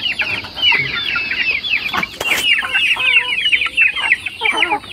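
Rhode Island and brown neck chicks cluck and peep in a lively, overlapping chorus close by, with busy chirping throughout and no talking.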